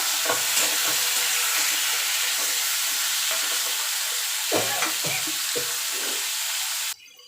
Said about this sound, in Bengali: আমগুলো দিয়ে একটু নাড়াচাড়া করে নেব